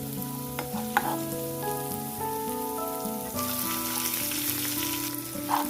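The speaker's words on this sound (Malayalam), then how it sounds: "അതിലേക്ക് ചുവന്നുള്ളി വേപ്പിലയും ഇട്ട് നന്നായിട്ട് വഴറ്റുക." Shallots and curry leaves sauté in coconut oil, giving an even, rain-like sizzle that carries on under steady background music with no voices.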